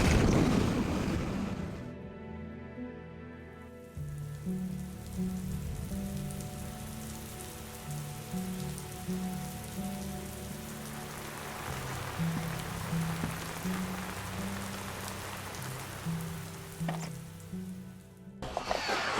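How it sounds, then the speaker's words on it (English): Heavy rain pours steadily onto a surface outside an off-grid home during severe weather, a dense, continuous hiss that starts abruptly and holds loud throughout, with a low rumbling wash beneath and no talk. "It's gonna rain for the next hour."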